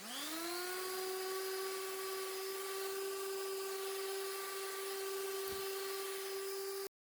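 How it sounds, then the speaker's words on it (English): A steady, continuous whine of a power sander on pallet wood runs without a break at an even pitch, close and fairly loud, stopping abruptly at the end. "I'm going to do a little bit of sanding here"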